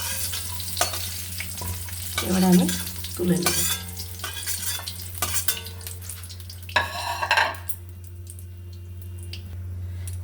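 Cauliflower and potatoes fry in oil with a little turmeric, giving a steady sizzle and crackle. Spatula stirs and pan scrapes come in bursts through the clip, and a voice speaks briefly near the end.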